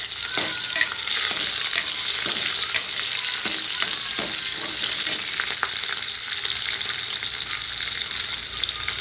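Chilies and garlic frying in hot oil for dahi kadhi, a continuous bright sizzle with crackles and intermittent stirring clinks from a utensil, close and fairly loud.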